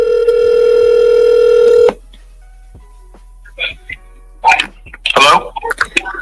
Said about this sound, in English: let's go ahead and listen to this phone call